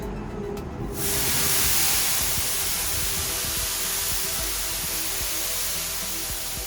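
Steady loud hissing and crackling sizzle of water sprayed from a bottle onto a hot Blackstone Pro Series 36-inch griddle, beginning abruptly after a second and continuing without letup.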